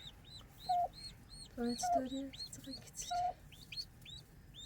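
Clucking chickens in a farm video game, a run of short clucks and chirps repeating through the clip with voices talking over them.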